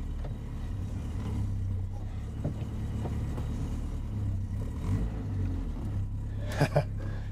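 A small Renault 4CV's engine hums low and steady from inside the car while it drives, fairly quiet, with a few faint knocks and a couple of brief sharper sounds near the end.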